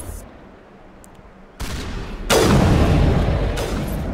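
Rockets firing in Mass Effect Legendary Edition, heard as sudden loud booms and blasts that stack into a sustained roar of impacts. The sound is near and loud.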